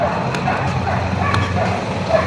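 A talking toy puppy that sings and speaks gives short electronic barks and yips in quick succession, close and fairly loud, with a steady background hum.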